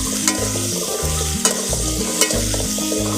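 Vegetable stalks for data chorchori go into a hot pan with chillies and salt, with a steady loud sizzle, rhythmic stirring scrapes and a few sharp utensil taps, close by.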